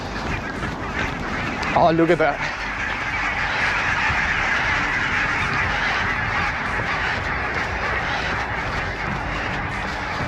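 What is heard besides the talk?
geese honking, flying north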